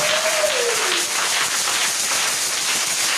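A congregation at a divine healing seminar claps and cheers in a dense, continuous wash of applause filling the room, with a brief voice-like tone rising at the start.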